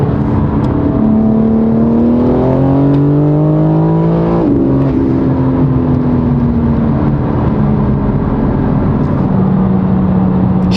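BMW M4 Competition with a tuned, high-power engine accelerating hard, a loud continuous engine roar whose pitch climbs steadily through the gears, briefly drops at a shift and then rises again, heard close with no talk.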